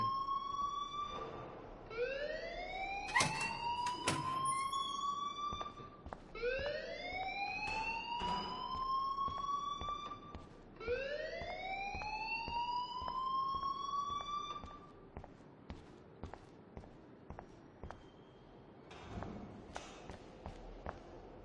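A school alarm rings in the video game Life is Strange, a loud electronic wail that rises and repeats in several cycles, then cuts off, leaving faint clicks and footsteps.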